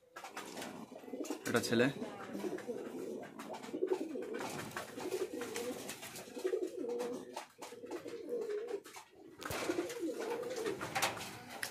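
Fancy pigeons in a loft coo in throaty, rolling bursts that come and go, close by and moderately loud, with a voice speaking briefly between the calls.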